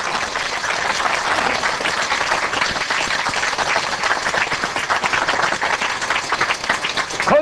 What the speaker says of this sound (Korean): 영광의 박수 하려야 돼요